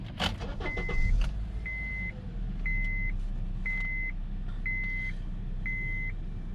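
A 2012 Honda Accord cranks and fires up, followed by a steady low idle with a chime beeping at a regular rhythm, close by inside the car.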